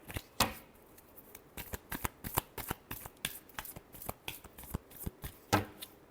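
Tarot cards are shuffled close by in a run of quick, crisp slaps and riffles, irregularly spaced, with a few louder snaps standing out among the lighter flicks.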